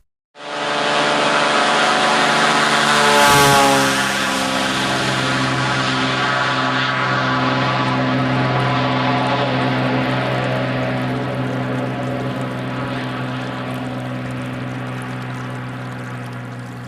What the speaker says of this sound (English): the plane left us alone for our week on the Kugururok.